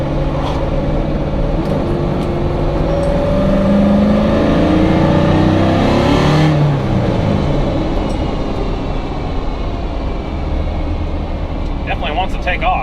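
A car with a noisy differential drives and accelerates, its engine rising in pitch from a steady loud road rumble, and occasional faint rattles can be heard.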